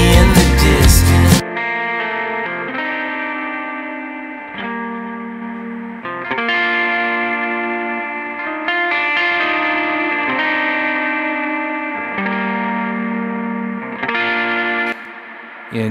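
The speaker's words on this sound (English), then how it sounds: "a 90s Stratocaster, just kind of doing a basic rhythm in the right ear." A 90s Stratocaster electric guitar plays a basic rhythm part through heavy effects, distorted and chorused with reverb and echo, sustained chords changing every couple of seconds after a brief loud burst at the start.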